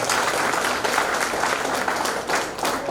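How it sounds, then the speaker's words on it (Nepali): Sustained applause from a seated audience at a Nepali literary award ceremony, dense steady clapping of many hands that fills the whole stretch without a break. "उहाँलाई ताली बजाएर फेरि बधाई दिनुहोला।"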